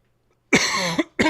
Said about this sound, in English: Sorry for coughing in your ear, guys.